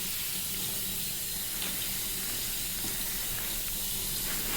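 Water runs continuously during hair washing, making a steady, dense splashing rush with no breaks.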